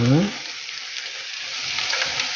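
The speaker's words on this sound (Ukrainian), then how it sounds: "Не тушкована лише, а трошки підсмажена." Cabbage fries in an oiled pan with a dense, steady sizzle, close and continuous, after a brief spoken word at the start.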